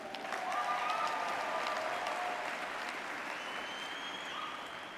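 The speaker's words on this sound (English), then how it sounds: "Give yourselves a big round of applause for being here this weekend." A crowd at a training seminar claps steadily and densely throughout, sustained applause with faint cheering or voices mixed in.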